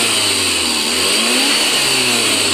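Tata Indigo petrol car engine being revved after a repair, loud and close, the note climbing and falling through a couple of quick throttle blips over a steady running hum, with no talking.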